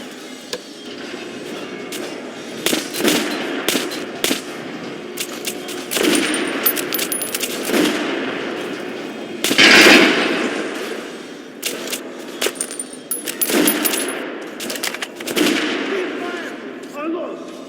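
Gunfire at a shooting range in the video game Metro Last Light, scattered sharp shots and bursts with metallic clinks across the span, loud and close, mixed with voices speaking.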